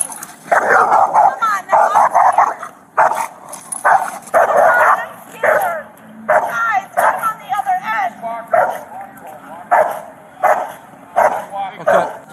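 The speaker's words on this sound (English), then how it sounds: "We got the dog on a leash." Escaped pit bull on a leash in a neighborhood, barking loudly and repeatedly in rapid bursts with yips and whines, close by, with people talking over it.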